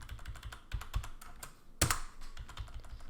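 Fingers typing on a computer keyboard in quick irregular clicks and taps, with one sharper keystroke slap midway, close and quiet without talking.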